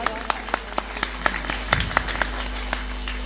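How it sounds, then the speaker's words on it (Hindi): Rhythmic hand clapping from a gathering at a Guru Purnima devotional festival, sharp regular claps in time with a bhajan, a faint tonal hum running underneath. "ताली बजाएं जोरदार"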